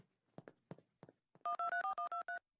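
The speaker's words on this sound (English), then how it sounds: "Excuse me, Lois, I have to go make a phone call." A telephone is dialed in a cartoon comedy: a few soft knocks and handling clicks, then a quick run of about seven clear touch-tone beeps, each a short, even pitched blip with brief gaps between.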